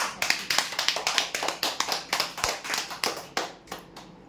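Enthusiastic applause from a crowd greeting a winner of an earphone prize at a weekly customer lucky draw, with steady, dense clapping throughout and no speech.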